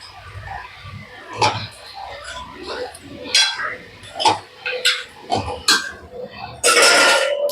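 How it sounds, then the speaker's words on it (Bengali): Tomato being stirred into mutton curry in a metal pot, with repeated clinks and scrapes of a spoon against the pot and a louder burst of stirring near the end, while someone talks over it. "এবার মাংসটার সাথে টমেটোটা পুরো মিশিয়ে দেবো"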